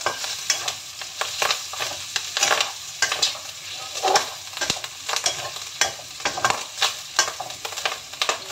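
Black fungus and noodles being stir-fried in a hot pan, with a steady crackling sizzle, bursts of splattering oil and repeated scraping and clattering as the food is tossed and stirred, close and fairly loud with no talking.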